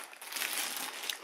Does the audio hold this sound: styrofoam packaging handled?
yes